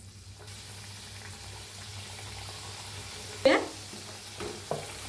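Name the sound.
karanji pastries frying in hot oil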